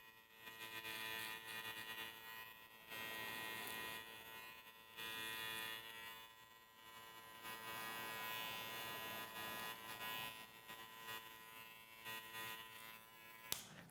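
Electric hair clippers fitted with a number 1 guard cutting the side of a flat top haircut, a steady faint buzzing hum that runs throughout with slight variations in intensity as the blade moves through the hair.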